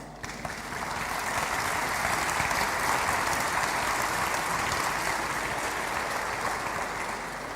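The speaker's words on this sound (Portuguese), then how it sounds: "merecem a vossa salva de palmas" A large audience at a hospitality association congress breaks into sustained, steady applause that fills the hall for several seconds and tapers slightly at the end.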